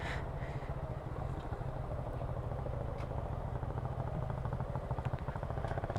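A Suzuki Gixxer motorcycle runs along on an adventure-style group ride, its engine a steady, fairly faint drone with light clatter and road noise throughout.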